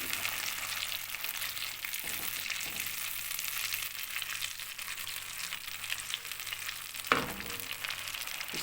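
Milk and a cashew, almond and melon-seed paste hit a hot mutton karahi, giving a steady broadband sizzle throughout with a sharper burst near the end; no talking.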